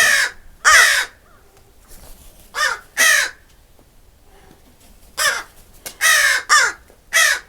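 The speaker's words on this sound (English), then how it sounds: "Can't hear you? It's because the crows." Crows caw loudly in short bursts, several harsh calls clustered in groups with brief quiet gaps between them.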